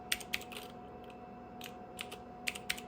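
Keys clack on the keyboard of an old 386 laptop, the Nan Tan 8100, in short bursts of two or three quiet presses separated by pauses, close up over a faint steady hum.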